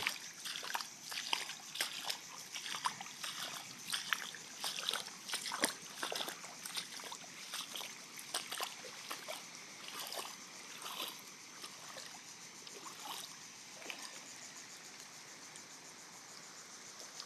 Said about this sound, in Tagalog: Umuulan mga guys.